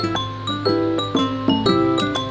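A notification bell sound effect rings as a quick run of bright, clear chime tones, about five or six evenly spaced dings that ring over one another, loud and alone.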